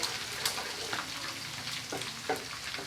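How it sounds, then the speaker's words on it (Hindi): Ginger and garlic frying in a pan for beef pulao, a soft continuous sizzle with a few brief crackling pops, alone and fairly quiet. "इसको हल्का सा भूनेंगे"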